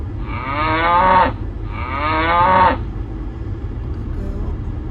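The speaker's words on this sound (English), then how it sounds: "we encounter some of the local cows that are currently enjoying their summer vacation" A cow on a mountain road moos twice, each call long, loud and close, with a short pause between, then a low steady background hum.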